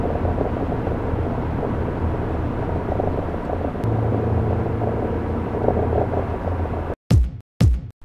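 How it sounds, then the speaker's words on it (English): A car with its exhaust muffler wrapped in exhaust wrap, heard on a test drive as a steady, loud low engine and road drone for about seven seconds before cutting to near silence with two short bursts. "So that's the test drive done with the muffler wrapped."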